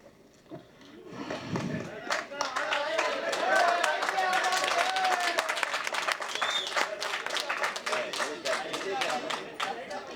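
Audience applause at a Tamil film event, dense sustained clapping from many hands that swells and stays steady, with crowd voices mixed underneath.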